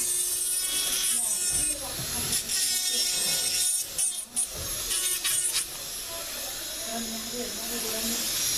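Sharp angles on a dental impression tray being trimmed with a rotary tool, a steady high whirring hiss that runs almost unbroken and dips briefly partway through.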